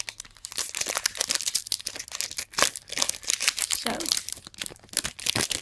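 A Magic: the Gathering Dragons of Tarkir booster pack is cut open with scissors, with close, sharp crinkling and tearing of the foil wrapper in quick bursts, and a person speaks briefly.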